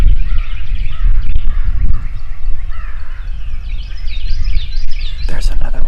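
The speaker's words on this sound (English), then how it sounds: "I just heard a crow, nothing gobbled." At dawn in turkey-hunting woods, a crow caws several times out in the distance among other chirping birds, over low rumbling background noise.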